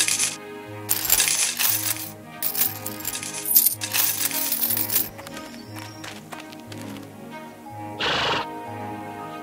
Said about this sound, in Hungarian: Tegyünk ki valamennyi érmét.